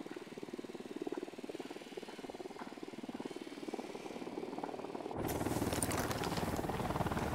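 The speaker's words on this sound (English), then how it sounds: "Unidad chopper. Stay low." An enemy Unidad helicopter in the video game Ghost Recon Wildlands drones with a steady rotor throb that swells louder and closer partway through, with no talk over it.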